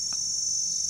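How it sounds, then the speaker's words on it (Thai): Cicadas in a tropical garden on a morning outdoors, a steady loud high-pitched electric drone that continues without pause, with no voices. "สียง จักจั่นหรือว่าเรไรนี่ก็ร้อง"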